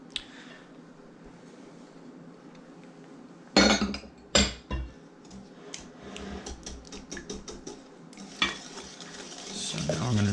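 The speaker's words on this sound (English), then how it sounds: "So now I'm going to just mix this really well" Brownie batter is stirred and beaten in a mixing bowl, a close, steady scraping broken by sharp clinks and knocks of the utensil against the bowl, with a quieter kitchen hum underneath.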